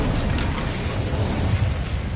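Incendio fire spell cast in Hogwarts Legacy, a loud dense whooshing burst of crackling flame with rumbling roar sustained throughout, no talking.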